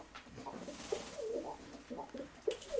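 Pigeons, including young birds, coo softly in short, repeated murmurs in a loft, close and fairly quiet against a hushed indoor background.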